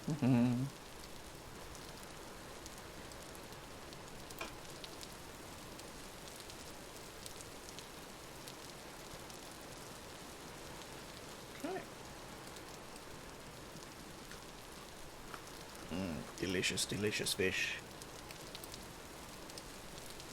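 Steady rain falls throughout a Vintage Story game scene, a constant soft hiss of drops on surfaces, with a brief voice near the start and a short burst of louder activity toward the end.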